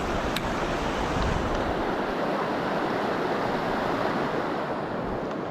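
Elwha River running high below Glines Canyon, where the dam has been removed: a steady, loud broadband rush of flowing water filling the whole clip, with some wind buffeting and no voices.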